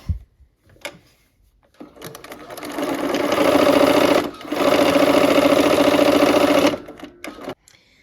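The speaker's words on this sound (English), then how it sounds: "I'm gonna go back and I'm gonna zigzag it just so it doesn't fray on me here" A sewing machine zigzag-stitches along a fabric edge to stop fraying. It runs as a close, rapid, steady mechanical chatter in two long bursts split by a brief pause, with soft clicks before and after.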